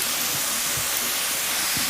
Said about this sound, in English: I have a pressure sprayer here. I'm just going to spray them